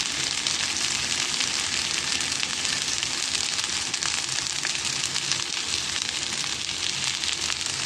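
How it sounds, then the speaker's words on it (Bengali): Ginger and garlic fry in hot oil for a duck kala bhuna curry, giving a steady, dense, close sizzle that holds unbroken for the whole stretch with no talk. "তো আদা রসুনগুলো ভালো করে ভেজে নিচ্ছি"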